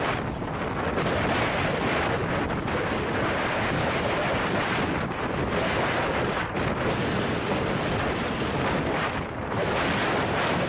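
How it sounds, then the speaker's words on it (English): Storm at sea around a large Dutch-flagged fishing vessel, heavy waves and strong wind roaring as one dense, continuous wall of noise, loud and close, with wind buffeting the microphone throughout. "A large fishing vessel flying the flag of the Netherlands confidently passes the waves in a storm."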